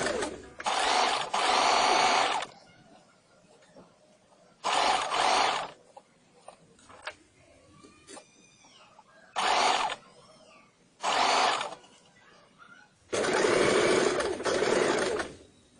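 A sewing machine stitches a blouse neckline through fabric and lining in five loud bursts of rapid whirring, separated by quiet pauses filled with small clicks and handling sounds as the cloth is turned.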